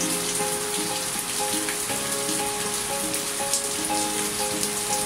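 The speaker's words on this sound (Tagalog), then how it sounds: "lakas ng ulan dyan." Heavy rain pours down in a continuous dense hiss that stays steady and loud throughout, with faint tonal sounds in the background.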